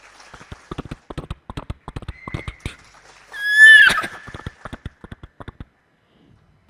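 A mimic's voice imitates a horse, starting with a run of quick tapping clip-clop beats, then a loud shrill whinny in the middle, then more tapping that fades out.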